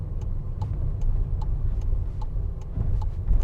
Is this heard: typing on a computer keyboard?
no